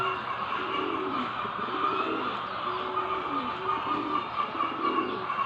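Pigeons coo softly while pecking at salt, amid a busy background murmur of traffic and chatter, the low calls repeating loosely throughout.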